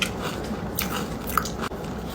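Crunchy cocoa-flavored marshmallow bitten and chewed up close, a sharp crisp bite followed by a few moist crunching chews, with no talking.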